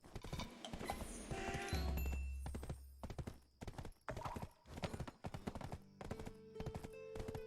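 Hooves clip-clop in a steady running rhythm from a mythical horse in the online game Black Desert, a loud close gait with occasional mechanical clinks and no speech.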